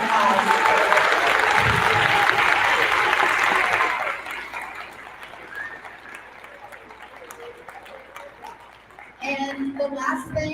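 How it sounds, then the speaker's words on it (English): A school awards assembly audience at Lakeview 5th Grade Pod 3 gives a loud round of applause for about four seconds, then it fades to quieter room murmur before voices rise again. "So if we can just give her a round of applause."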